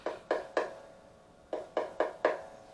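A handmade Bramble Creek acoustic guitar with a slightly deep body gives seven sharp, resonant struck notes, each ringing briefly: a group of three, a pause, then four more, close and fairly quiet with no voices.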